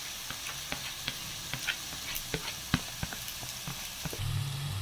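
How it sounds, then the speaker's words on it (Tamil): Onion and garlic paste sizzles while frying in a pan, a steady crackling hiss broken by small pops and spatters throughout. "இந்த பாருங்க, வெங்காயம் பூண்டு விழுது வதங்கிட்டு இருக்கு."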